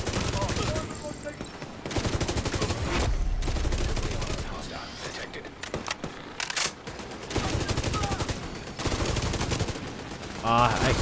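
Striker LMG in The Division 2 firing long sustained bursts of rapid automatic gunfire, broken by brief pauses, with a voice talking between and over the shots.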